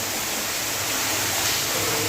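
Waterfall at a Shiva temple, heard as a steady, dense rushing hiss of falling water holding even throughout, close and continuous with no voices over it.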